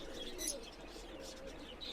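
Benaras pigeons coo softly at a seller's loft, faint low calls over a steady background hum with a few chirps, no voices.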